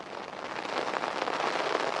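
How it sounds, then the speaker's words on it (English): Heavy rain pours outside the Parliament, a dense, steady hiss of drops striking surfaces that swells slightly louder midway and carries on with no voices. "It's raining very heavily here"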